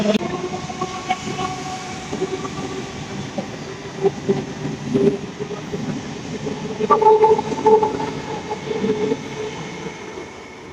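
A long goods train passes through Memari railway station on Indian Railways' Eastern Railway line. It makes a continuous near rumble with rolling wagon clatter and faint squealing tones that swell louder toward the latter part.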